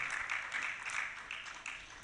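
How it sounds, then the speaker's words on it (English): Distant audience applause for a panelist at a health-advocacy event, a soft, continuous wash of many hands clapping that stays faint and steady for two seconds without speech. "A round of applause for him as he makes his way up here as well."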